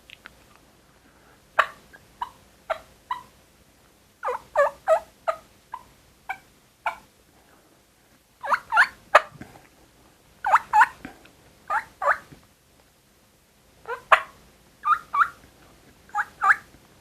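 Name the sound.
hunter imitating hen turkey clucks with a turkey call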